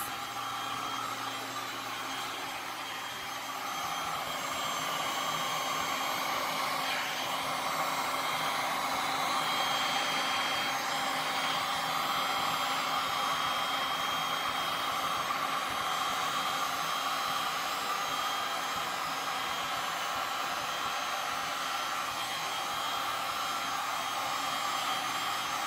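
Continuous roar of a heat gun blowing hot air over resin poured on a wooden table for a silver and white marble finish, steady and fairly loud for the whole stretch, no talking.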